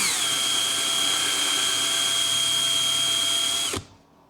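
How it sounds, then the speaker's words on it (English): A hand-held power drill drilling into soft plastic whines at a high steady pitch for several seconds, then abruptly winds down and stops. "So let's go ahead and see if I can drill this out."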